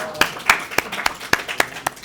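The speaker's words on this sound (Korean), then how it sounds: "박수 한번." A small audience claps for a birthday during a Korean AI study group talk on scene graph generation, giving about eight sparse, separate handclaps over a couple of seconds at moderate loudness.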